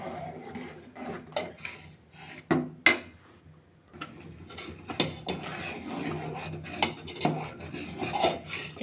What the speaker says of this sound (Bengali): এবার নেড়ে চেড়ে মিশিয়ে দুইটা বলক উঠলেই নামিয়ে নেব